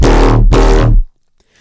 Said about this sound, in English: So let's turn on the distortion, which is doing a bit of wave shaping